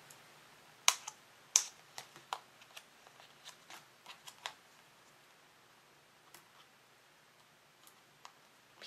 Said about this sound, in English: Peeling off my backing from each letter of my happy.